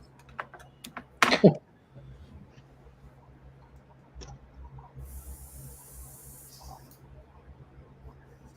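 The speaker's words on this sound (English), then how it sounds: "See now my airbrush, because now it's time." A handheld airbrush hisses out a steady fine spray of paint for a couple of seconds after a few faint clicks and a brief louder burst of handling noise, close and fairly quiet.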